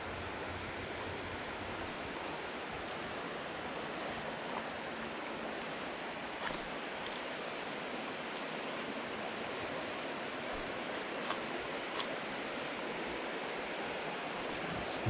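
Small creek flowing well, a steady, continuous rush of water with an even wash of noise throughout and no talk.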